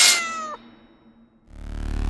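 An animated cat villain lets out a bright meow that slides downward, followed by a short lull and then a low rumbling sound at the end.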